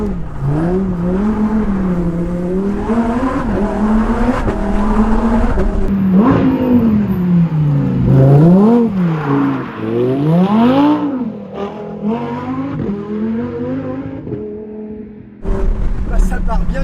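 Lamborghini Huracán Performante with a naturally aspirated V10, driven on a road and pushed into a slide, revving hard with rising and falling engine pitch throughout, loud and close, while someone talks over it.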